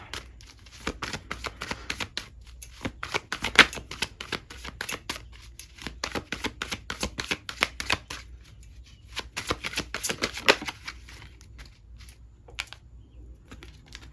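Tarot cards shuffled close up in a steady run of dry, rapid clicks and flutters, in bursts with short pauses in between, with no talking.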